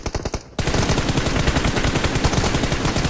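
Rapid automatic gunfire in a team deathmatch shooter league final, beginning with a short burst and then a dense, continuous rattle of overlapping shots that stays loud and close throughout.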